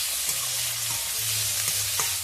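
Chicken mince sizzles steadily in a hot pan with onions and whole cumin, a constant close frying hiss with a few soft stirring knocks.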